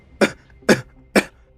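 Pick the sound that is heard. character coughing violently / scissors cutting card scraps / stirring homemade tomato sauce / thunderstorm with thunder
character coughing violently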